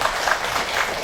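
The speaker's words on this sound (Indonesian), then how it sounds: "Boleh tepuk tangannya sebentar?" Applause from an alumni reunion audience of the 1979 class of SMP Negeri Larompong, a brief burst of dense clapping at steady loudness.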